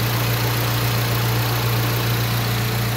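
A radiator fan runs on a Lancer GSR 4G92 engine with a newly installed thermostat, a steady whirring drone over the constant low hum of the idling engine, unbroken and close.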